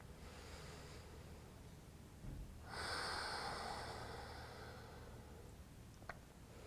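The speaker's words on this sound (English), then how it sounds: "let's just take a few deep breaths right here" A single long, deep breath during a yoga flow, heard up close and soft: a brief inhale followed by a drawn-out airy exhale that swells and fades over several seconds against quiet room hiss.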